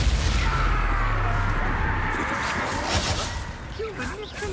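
A Confringo fire spell in Hogwarts Legacy bursts out as a loud, dense whooshing blast that fills the opening seconds and trails off, with a voice speaking over the combat noise.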